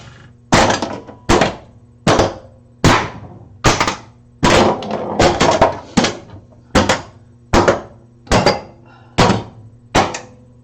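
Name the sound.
pinball machine solenoids and coils firing during test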